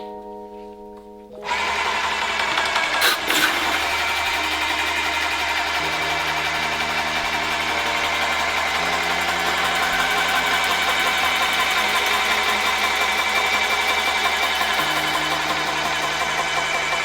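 A Contractor PC Compact airless paint sprayer fitted with a 308 tip starts up and runs steadily while being primed for spraying trim, a loud continuous mechanical whir and hum that holds without a break, no voices.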